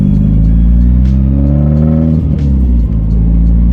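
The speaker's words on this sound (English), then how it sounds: "I hit a little bit of turbo then." Nissan Pulsar GTiR with a built turbo engine accelerating hard, a loud, close, continuous rising engine note with a brief dip as it pulls, heard from inside the car without talking.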